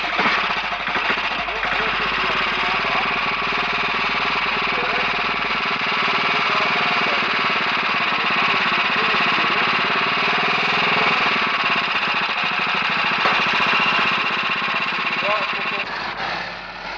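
Motorcycles at a riding school, learner training bikes, with engines buzzing together in a dense, continuous drone that stays steady and fairly loud throughout.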